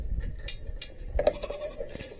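A goat bleats once, a short wavering cry mid-clip, amid quiet rustling and soft outdoor sounds on a farm pasture.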